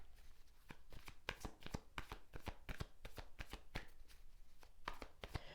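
A deck of tarot cards is shuffled up close. Quick crisp riffles and slaps form a rapid, uneven rhythm that continues throughout.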